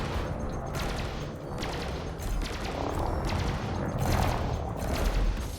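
Spaceship weapons in the game Elite: Dangerous fire in a dense, continuous barrage of loud rapid bursts that swell and pulse throughout, with no pause.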